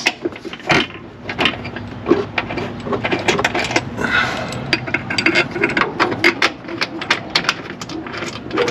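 New shock mount hardware being tightened on a Dodge Magnum during a suspension job: rapid, dense ratcheting clicks run throughout at close range, loud and continuous with brief pauses.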